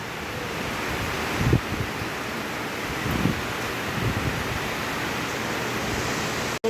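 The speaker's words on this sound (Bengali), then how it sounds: "একটা ঝোড়ো হাওয়াও হচ্ছে সাথে" Gusting wind during a rainstorm buffets the microphone in a continuous roar, with a few stronger bursts rising and falling.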